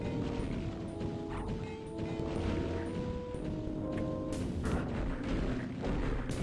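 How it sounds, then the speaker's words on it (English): Grenades go off in the dark-fantasy shooter Hexen, a string of sharp crashing blasts over a busy background of game sounds, the loudest bursts arriving near the end. "Let me use grenades maybe."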